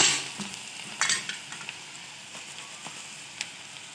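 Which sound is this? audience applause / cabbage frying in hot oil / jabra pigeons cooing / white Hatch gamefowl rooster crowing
cabbage frying in hot oil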